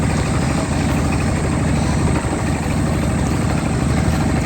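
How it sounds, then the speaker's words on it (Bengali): A small river trawler on a broad river, powered by a shallow-pump engine, drones with a loud, constant, close chugging hum that holds unbroken throughout. "ট্রলারটি স্যালো মেশিনে চালিত একটি ছোট্ট"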